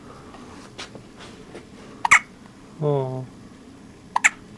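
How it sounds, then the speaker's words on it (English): A newborn girl, two days old, gives short, sharp hiccups: two bursts near the start and two more near the end, close by. An adult voice speaks once and a soft vocal tone sounds between the hiccups. "And she's got the hiccups."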